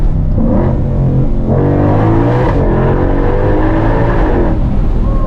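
A 2022 Shelby GT500's engine revs hard while driving, loud and close, its pitch climbing and dipping through several throttle surges with no talking.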